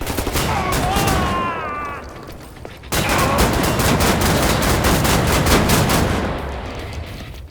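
Repeated shotgun blasts from a first-person shooter video game ring out loud and close in a rapid, continuous stream, with a brief pause before the barrage resumes.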